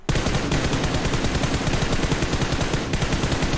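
Rapid automatic gunfire from an M416 in BGMI rattles nonstop, loud and close, a dense stream of shots with a brief break near the end.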